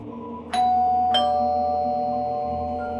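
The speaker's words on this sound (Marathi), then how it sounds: "श्रीमती सुधा इनामदार असं नाव लिहिलेल्या दारावरची बेल वाजवली" A doorbell rings twice at a home's front door, two bright electronic chimes close together that ring out and slowly fade over a steady low hum.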